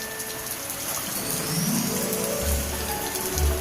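Heavy rain pours down outdoors in the Philippines, a dense steady hiss of drops on surfaces, with low rumbling water sounds rising near the end.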